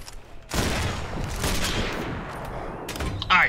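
A loud, close rifle shot in Sniper Elite 4 multiplayer, followed by a long rolling echo and a second sharp report near the end.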